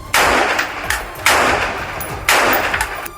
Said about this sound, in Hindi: खिड़की पर बंदूक ताने खड़े इस सैनिक ने कई राउंड फायरिंग की।